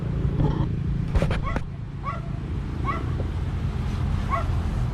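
A few spaced dog barks ring out at a moderate distance over a constant low rumble, with a brief voice and clatter near the start.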